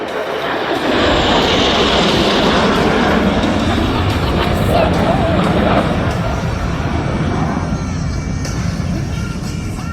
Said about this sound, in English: Alpha calls for the 4 Diamond pilots to perform simultaneous aileron rolls in close formation.